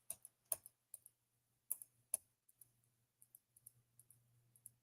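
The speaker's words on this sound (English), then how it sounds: "A whole bunch of clicking" A quiet string of sharp clicks, irregular and scattered, some louder than others, over a faint low hum with no voices.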